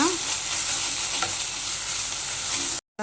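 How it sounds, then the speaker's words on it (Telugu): Ginger garlic paste frying with onions in hot oil, a steady dense sizzle with a few faint stirring scrapes, continuous and close before cutting to silence at the end. "ఉల్లి బాగా వేగినట్టు కొంచెం అల్లం వెల్లుల్లి పేస్ట్ వేస్తున్నాను నేను. వెల్లుల్లి కూడా పచ్చివాసన పోయేలాగా వేపాలన్నమాట."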